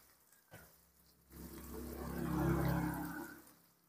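A little hot water poured into simmering chicken curry, starting with a faint tap and then a soft, swelling gush and bubbling hiss that fades out over a couple of seconds.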